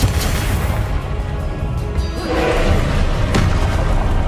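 Confringo spell explosions in Hogwarts Legacy, a steady run of loud booms and thuds with a bright crack near the end, filling the whole stretch with no talk.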